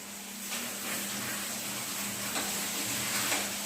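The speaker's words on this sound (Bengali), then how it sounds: "আলুগুলো ফ্রাই হয়ে যাচ্ছে" Sliced potatoes frying in a pan for soya curry, a steady broad sizzle holding evenly throughout with a faint low hum beneath, no talk.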